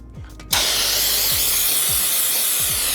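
Cleaner is sprayed onto a part during bearing installation on a 50-year-old suspension. A quiet lead-in breaks into a loud, steady aerosol hiss that continues close and unbroken to the end.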